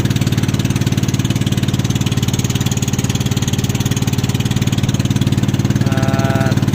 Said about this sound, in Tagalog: Ayan, mga motor.